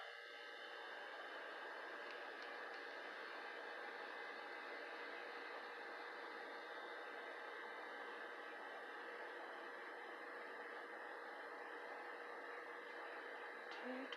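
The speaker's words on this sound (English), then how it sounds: "If you hear that little hum in the background, that is my dehumidifier." A dehumidifier hums steadily in a basement, a faint, constant whirring drone that stays even throughout with no voices over it.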